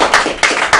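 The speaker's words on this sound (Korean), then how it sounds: "박수 한번 주세요." Applause from an audience at a Korean talk event, a short burst of hand claps in a few uneven pulses, loud and close.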